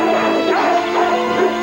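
Dogs yip and bark in a continuous excited clamor, with whimpering mixed in, loud and close throughout with no talking.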